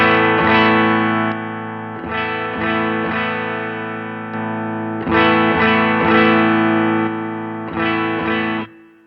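Electric guitar played through a Line 6 POD GO with the input pad switched on and off: loud, distorted strummed chords ring out in several bursts separated by brief gaps, with a slight drop in level between passages.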